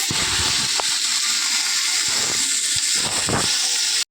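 Long beans (borboti) fry in a hot pan, a loud, steady broadband hiss with occasional sharp pops and crackles, close up and continuous with no voices.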